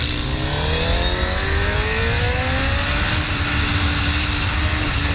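Superbike and supermoto motorcycles race on a street, their engines screaming loud and close as the pitch climbs steadily through the gears, with a continuous roar and no talk.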